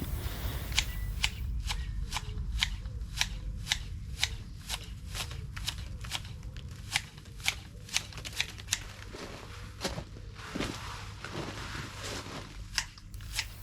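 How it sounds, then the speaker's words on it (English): Hand shears trim a box ball topiary with a quick, regular series of crisp snips close by, pausing briefly and resuming with a few scattered cuts. "Now, as you can see, I'm using hand shears."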